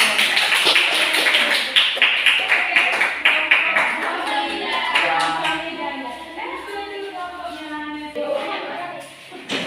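An audience applauds a presenting group with brisk, dense clapping that is loudest at the start and then thins into scattered claps. Voices murmur underneath throughout.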